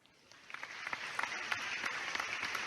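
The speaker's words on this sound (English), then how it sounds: "Give yourselves all a round of applause." Graduates and students at a law school recognition ceremony clap, faint and distant at first, then building into a steady round of applause.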